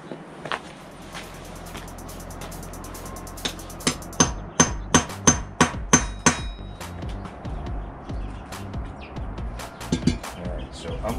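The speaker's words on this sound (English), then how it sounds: "I'm going to use a cold chisel to start the hole in the center." Sharp metallic hammer blows strike a cold chisel to start a hole for a vinyl railing install, a quick run of evenly spaced loud hits followed by a few scattered taps, with faint birdsong in the background.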